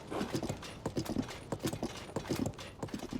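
A horse's hooves clip-clop in Zelda: Tears of the Kingdom, a brisk, regular run of close, sharp hoof strikes on hard ground, clear and alone.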